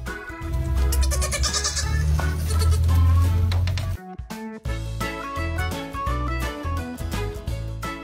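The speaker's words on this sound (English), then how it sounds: "Today's goat choir practice is Honk Symphony No." A group of goats bleats together in a loud, overlapping chorus, then breaks off briefly before more bleats return more sparsely.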